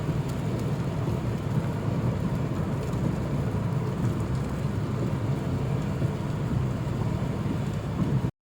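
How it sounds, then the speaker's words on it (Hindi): Heavy rain pours steadily on a moving car on the M-5 motorway from Multan to Sukkur, Pakistan, a dense continuous hiss with road rumble beneath, then it cuts off abruptly. "खूबसूरत बारिश, तेज़ी के साथ बरसती हुई बारिश, मौसम सुहाना"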